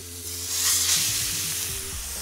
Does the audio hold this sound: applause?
no